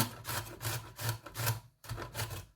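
Celeriac grated by hand like a potato, alongside apple, giving a quick run of rhythmic rasping strokes, close and clear, with a short pause before the last few.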